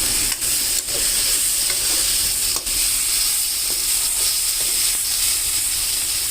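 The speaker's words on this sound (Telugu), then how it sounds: "ఇవి కాస్త ఒక 5 minutes అట్లా ఫ్రై చేసుకుంటే మంచిగా నూనెలో మగ్గితే బాగుంటాయి" Vegetables and leafy greens fry in oil in a pan with a steady, close sizzle and a constant hiss, stirred now and then, with no talking over it.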